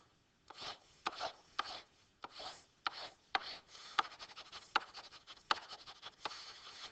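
A pen draws fraction diagrams on paper, making quick, close scratchy strokes in short bursts with sharp taps where lines start, a rhythmic run of quiet scribbling with no talk.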